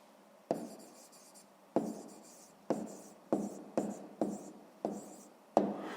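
Pen strokes on paper as the answer to a fifth-grade math exercise is written down, seven or eight distinct scratchy strokes at an uneven pace, close and fairly quiet with no talking.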